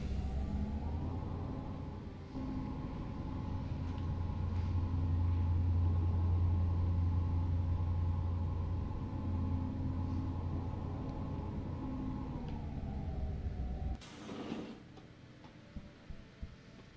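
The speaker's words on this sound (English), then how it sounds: "And another long-winded elevator ride later." Steady low rumble and hum of an elevator ride in Deus Ex Human Revolution, sustained and fairly loud for about fourteen seconds before stopping abruptly, followed by a brief clunk and faint ticks.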